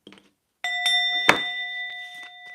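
A bell chimes in a few bright, sustained ringing tones with one sharp struck hit in the middle, close and clear, after a brief faint sound and silence.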